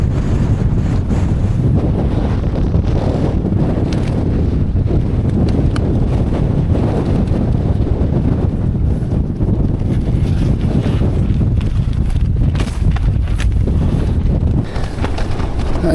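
Strong gusty wind of roughly 14 to 17 mph with 30 mph gusts batters a tent campsite at night, a loud continuous roar buffeting the microphone with surging gusts throughout.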